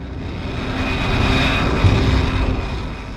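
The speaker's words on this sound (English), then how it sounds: "The pilot taxis the F-35B along the base's tarmac, moving toward the designated runway for takeoff." A U.S. Navy F-35B fighter jet taxis on the tarmac, its engine a steady, loud broadband roar with a whine on top that swells slightly in the middle and holds without any break.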